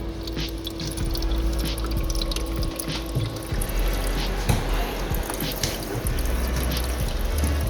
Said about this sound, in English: and this thing's gonna start making ice.